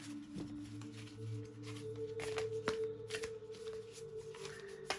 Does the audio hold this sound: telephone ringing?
no